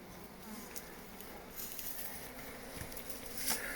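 Honeybees fly around nucleus colonies made from a log hive. A steady, fairly faint buzzing swarm hums throughout, with individual bees passing closer now and then, and no voices.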